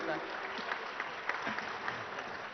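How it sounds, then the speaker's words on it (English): Applause from a conference audience at a housing-sector panel, a steady crackle of many hands clapping at moderate volume with no talking, lasting a couple of seconds. "a louder round of applause will be great"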